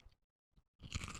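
Crunchy food bitten and chewed close up, a short faint crackle followed by a sudden loud burst of dense crunching that continues to the end.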